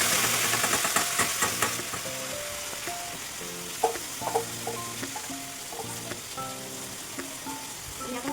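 Marinated chicken sizzles loudly as it fries over potatoes in a hot pan, a steady bright crackle broken by stirring clatters and scrapes, with no talking.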